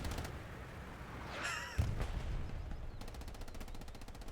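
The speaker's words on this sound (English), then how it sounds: "Artillery's starting to land there." Artillery fire lands in a WWII video game set in Hurtgen: a sharp heavy blast stands out amid distant crackling gunfire and a rapid automatic burst near the end, with no talk.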